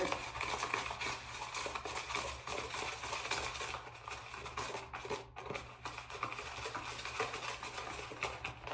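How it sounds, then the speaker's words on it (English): Honey lip scrub mixture being stirred in a small container, a continuous soft scraping and gritty swirling close by, with light clicks of the utensil and no talking. "And then we're gonna stir this up real good."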